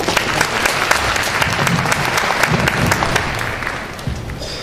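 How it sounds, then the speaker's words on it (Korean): An audience at a 2015 joint public-institution recruitment briefing in Daegu-Gyeongbuk claps loudly to welcome a presenter from the Korea Expressway Corporation. The dense, continuous applause holds steady, then thins out toward the end. "여러분 큰 박수로 맞아주시기 바랍니다."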